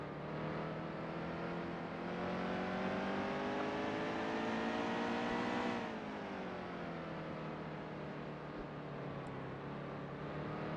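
NASCAR race cars on track in NASCAR Heat 2, a loud continuous engine roar that climbs in pitch, drops sharply as the car shifts or lifts, then settles into a steady drone; no talking.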